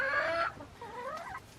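A copper Maran hen squawks and clucks nearby on a farm: a short, bright, loud cackle followed by a lower, wavering cluck, with no talk.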